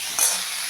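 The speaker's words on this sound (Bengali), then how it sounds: "মিশিয়ে এরকম একটু গোল্ডেন ব্রাউন হওয়া পর্যন্ত আমি ফুলকপিটাকে ভেজে নেব।" Cauliflower pieces frying in oil with salt and turmeric give a soft, steady sizzle, with a brief brighter crackle as they are stirred.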